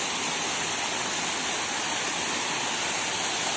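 Spring-fed waterfall in a forest, a steady broadband rush of falling water that holds constant and fairly close throughout, with no voices over it.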